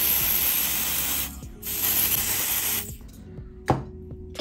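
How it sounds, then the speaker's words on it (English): Two long hissing bursts from an aerosol nail dryer spray can, close and loud, followed by a quieter short spray and a small click. "So you just spray it and it's just to dry"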